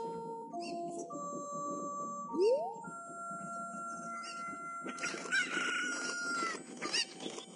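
Cuccos, the chickens of The Legend of Zelda: Ocarina of Time, cluck and squawk over game music, with a busier burst of fowl cries near the end and no speech.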